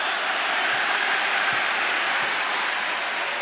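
At a Marquette versus Iowa State college basketball game, the arena crowd roars and applauds in a steady, dense wash of sound with no clear breaks.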